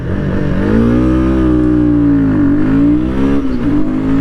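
A Royal Enfield Guerilla 450 motorcycle engine revs close and loud, its pitch climbing, easing and climbing again in steady waves over four seconds with no other sound.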